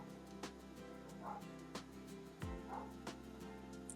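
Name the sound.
neighbor's dogs barking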